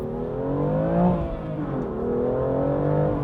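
A 2021 BMW M2 CS engine revs hard under acceleration, a loud, steady roar with harmonics rising and dipping through gear changes over a few seconds, with no voices.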